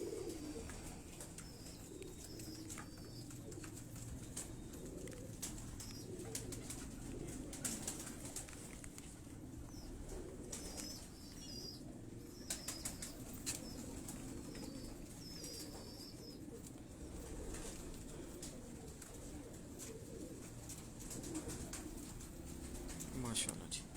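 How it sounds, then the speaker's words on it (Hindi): Domestic pigeons, a pure-bred teddy kabootar and a female among them, coo low and steadily throughout with occasional wing flaps, close by, while people talk over them. "ये आप कबूतर देखिए जी।"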